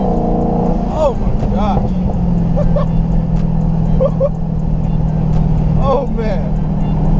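A supercharged Dodge Charger SRT Hellcat engine roars loud and close with a steady deep drone and surging revs, while an excited voice exclaims over it.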